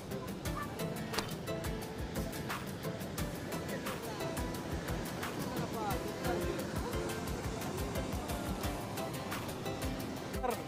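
Steady rushing roar of the waterfall at Kakkadampoyil in Kerala, continuous and broadband, with people talking over it close by.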